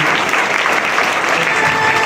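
Seminar audience in Damoh applauding the event management, dense continuous clapping from a crowd, close and loud for a short burst with no talk over it.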